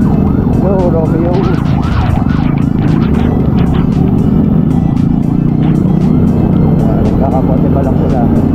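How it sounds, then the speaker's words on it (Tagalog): An ambulance siren wails through rainy EDSA traffic, its warbling tone rising and falling close by over loud road noise and rumbling engines while people talk near the mic. "Yung may ambulansya kalapit sa natin."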